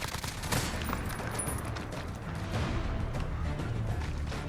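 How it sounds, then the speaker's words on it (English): Sustained, dense automatic fire from the MG5A2 machine gun in Call of Duty Modern Warfare, loud and continuous with rapid overlapping shots and booming low end throughout. "Definitely a really good weapon. One of my favorite machine guns."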